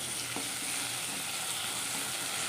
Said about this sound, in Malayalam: ഞാനത് ആവശ്യത്തിനുള്ള കറിവേപ്പിലയും കൂടെ അതിനകത്തേക്കിട്ട് നമുക്കൊന്ന് ഇളക്കി കൊടുക്കാവേ.